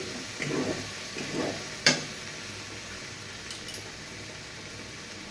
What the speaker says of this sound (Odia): ଇଏ ବେଶୀ ଟାଇମ୍ ଲାଗିବନି ଭାଜିବା ପାଇଁ, କ'ଣ ପାଇଁକି ସବୁ କାଜୁ କିସମିସ୍ ସେଇଗୁଡ଼ା ହିଁ ଅଛି ନା, ବାଦାମ